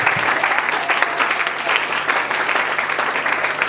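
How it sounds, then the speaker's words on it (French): A church congregation applauds steadily, a dense, sustained clatter of many hands from a nearby crowd, with no voices standing out. "Acclamons pour la voix de Dieu notre Dieu."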